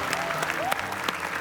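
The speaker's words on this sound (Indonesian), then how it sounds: "Tepuk tangan untuk ketiga bintang tamu kita yang begitu luar biasa." An audience claps for three guest stars on an Indonesian TV show, a dense, steady patter of many hands at moderate distance over a short stretch, with a host's voice faintly under it.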